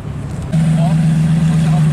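A supercar engine at a car meet starts up with a sudden loud, deep steady rumble that carries on close by, with people talking nearby.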